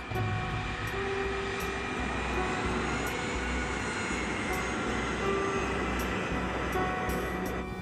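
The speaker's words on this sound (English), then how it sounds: "The KLM plane is groping its way through fog." A KLM jet airliner taxiing through fog, its engines giving a steady, continuous roar with a low rumble throughout, close and constant with no voices.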